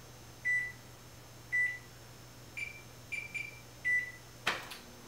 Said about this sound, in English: We set our oven to 400 degrees.